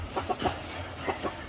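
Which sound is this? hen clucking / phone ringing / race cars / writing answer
hen clucking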